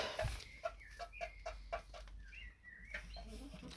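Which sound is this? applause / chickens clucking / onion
chickens clucking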